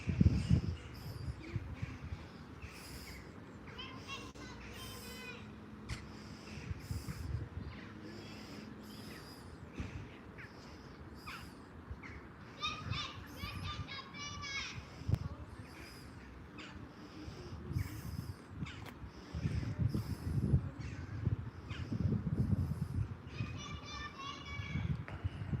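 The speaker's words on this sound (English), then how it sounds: "Hear the magpies. Magpies are going nuts." Magpies chatter in repeated harsh rattling bursts by a loch, mid-distance and fairly loud at times, over an outdoor background with people talking.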